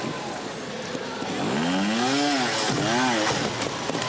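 Trials motorcycle engine revving at an indoor trial event in Barcelona, a rising and falling whine under crowd noise, with two distinct throttle blips that climb and drop in pitch.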